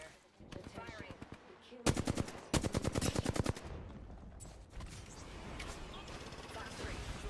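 Apex Legends gunfire, two loud rapid automatic bursts in quick succession amid game sounds, with quieter weapon and effect noises around them.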